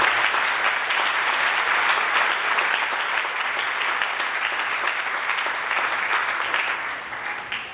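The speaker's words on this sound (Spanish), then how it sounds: "Y yo quiero que todos le den un aplauso al Señor" A church congregation claps in a dense, continuous round of applause that stays strong before tapering slightly toward the end, with no speech over it.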